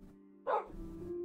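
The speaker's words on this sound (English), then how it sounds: "look at my new doggies over here" A single short bark from a pet dog in Minecraft cuts through a quiet steady game background hum, close and moderately loud, with no talking.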